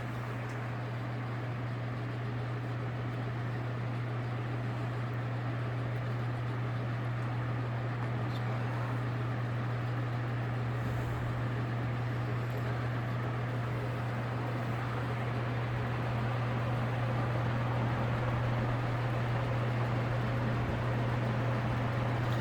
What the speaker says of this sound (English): So we'll start this fan up on high.